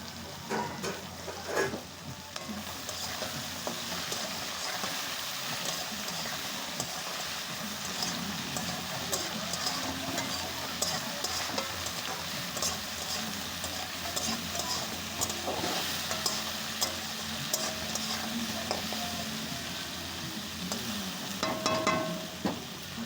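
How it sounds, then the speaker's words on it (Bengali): Bitter gourd, potato and fish roe fry in a pan with a continuous close sizzle and crackle, broken by occasional stirring scrapes, with no talk over it. "এই যে উস্তা দিয়ে আলু দিয়ে আর ভেজে নেবো লঙ্কা দিয়ে। তো মাছের ডিমটা দিয়ে দিয়েই ভাজবো"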